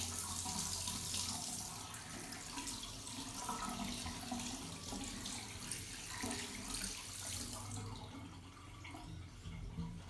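Water runs steadily from a tap during hand washing by the WHO method, a continuous close splashing hiss with no voices.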